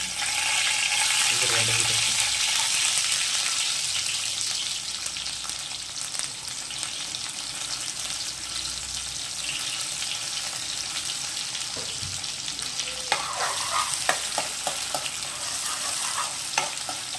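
Onions fry in plenty of oil in a pan with a loud sizzling burst at first that settles into a steady crackle. Scraping stir strokes and a few light clinks come near the end.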